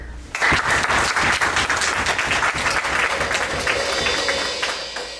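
A church congregation bursts into loud, sustained applause, dense clapping from many hands that begins abruptly and holds steady before easing slightly near the end.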